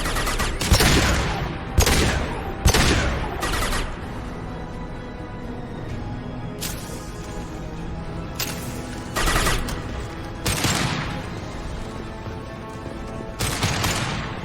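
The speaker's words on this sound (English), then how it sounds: "concussive shot!" Concussive shot and other weapons fire during combat in Mass Effect 2. Sharp loud blasts come in irregular bursts, some clustered close together and others spaced apart, with quieter rumbling battle ambience between them.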